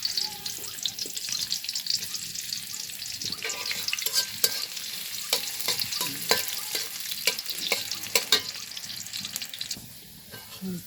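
Dried chili, chopped garlic and onion fry in oil with a steady close sizzle, broken by repeated clinks and scrapes of a utensil stirring the pan.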